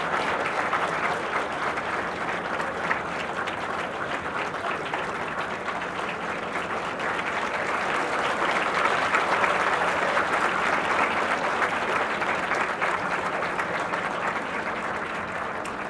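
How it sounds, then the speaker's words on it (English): An audience at a business school HR conclave applauding, a sustained, even wash of clapping from many hands that swells slightly midway and continues throughout. "Please give me a huge round of applause."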